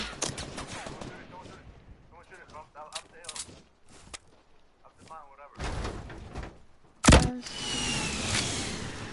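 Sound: gunfire in a PS4 video game

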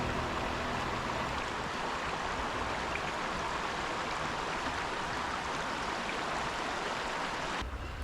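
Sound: mountain river flowing

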